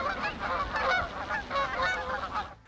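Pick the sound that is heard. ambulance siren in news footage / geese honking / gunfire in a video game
geese honking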